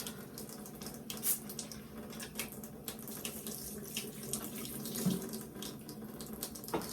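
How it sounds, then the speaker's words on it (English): Small grinders are washed by hand under a running kitchen tap, with a steady splash of water and occasional light knocks and clatters in the sink, no voices. "So, let me start washing these things by hand."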